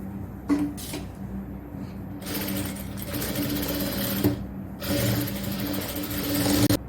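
An electric sewing machine stitching a seam on a triple-frill XL nighty, running in several steady bursts of rapid mechanical whirring with short pauses between them, close and fairly loud.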